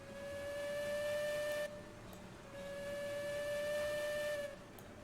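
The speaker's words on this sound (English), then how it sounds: "Give it a whistle." A steam locomotive whistle in the Railroads Online video game blows two long, steady, loud tonal blasts separated by a brief gap, with faint hiss between them.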